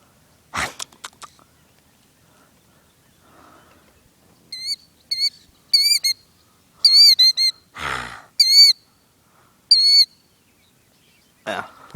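A wild bird gives a series of repeated chirping, whistled calls in short bursts, fairly close and clear, with a few sharp knocks and a rustle between them and no talking.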